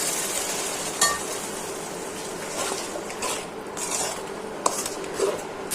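Egg masala sizzles softly in a pan while a spatula scrapes and clinks against the metal in several sharp, irregular knocks, close by and without speech.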